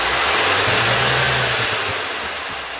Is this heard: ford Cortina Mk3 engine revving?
yes